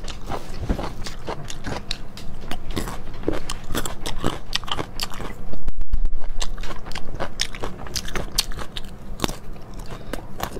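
Close crunchy bites and chewing of a seedy, fairly dry fruit, a rapid series of crisp snaps and wet mastication sounds continuing without talk.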